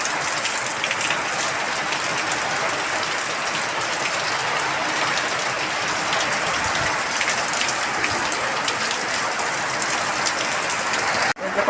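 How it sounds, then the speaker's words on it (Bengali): A heavy monsoon downpour pounds steadily on trees and a tiled roof, a dense, continuous roar of rain with no voices, holding constant for the whole stretch. "এখন আবার মুষল ধারায় বৃষ্টি নামলো।"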